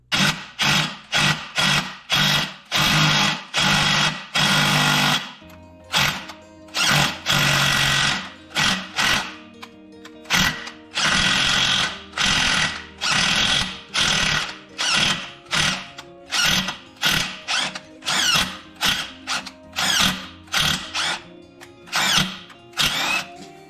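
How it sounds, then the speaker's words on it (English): A power tool drives a self-tapping bolt into a drilled 5/16 hole, with oil, during a lift install on a 1995 Jeep Grand Cherokee; loud, close, rapid on-off bursts of whirring repeat through the whole stretch. "I'm just gonna shoot a little oil on there and run this self-tapping bolt through."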